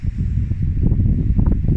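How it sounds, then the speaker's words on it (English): Strong, steady wind buffets the microphone with a continuous low rumble and roar at a reservoir campsite, loud and unbroken throughout with no voices. "it's crazy windy"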